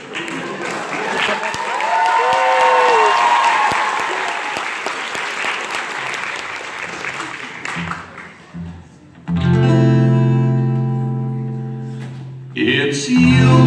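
A live show audience breaks into loud, sustained applause that swells and then fades over several seconds before music starts up.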